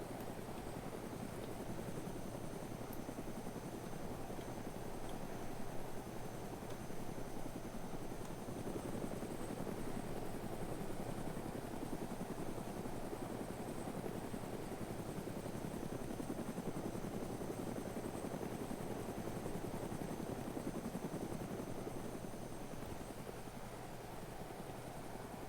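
A helicopter in the video game DayZ flies with a constant, loud rotor and engine roar that stays steady throughout with no talk.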